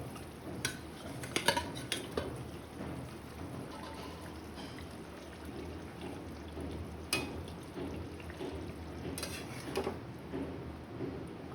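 Pieces of pomfret fish dropped into a pan of simmering vegetables, with a few sharp clinks of a spoon against the pan and soft splashes over a low, steady cooking hiss.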